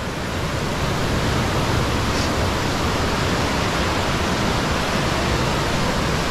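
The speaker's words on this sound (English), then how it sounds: "Waterfalls are amazing." A powerful waterfall roars as a constant, loud, broadband rush of crashing water. It holds steady and unbroken throughout, close and dense, with no voices.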